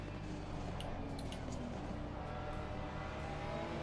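Race cars run together in Assetto Corsa Competizione at the Valencia circuit, a steady dense engine drone with tire noise throughout, loud and continuous with no pauses.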